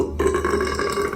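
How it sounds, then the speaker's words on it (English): One loud, close, drawn-out burp from someone who has been eating hot dogs, with a rough, resonant tone and nothing else around it. "I still had a ton of hot dog burps"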